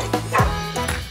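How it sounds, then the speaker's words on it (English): A cartoon dog gives a couple of quick yipping barks in a children's farm song, spaced apart over continuous music. "Dog!"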